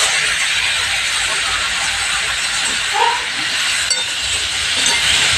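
Cauliflower and potato fry with spices in a pan for a Bengali rohu fish curry, giving a loud, steady, close-up sizzling hiss. A couple of faint clinks break through the hiss.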